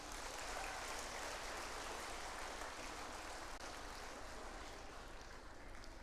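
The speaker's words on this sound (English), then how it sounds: "Please give a special clap for these two sisters." Applause from the audience at a centenary celebration in India, a dense, even wash of clapping that holds steady for several seconds at moderate distance and tapers slightly at the end.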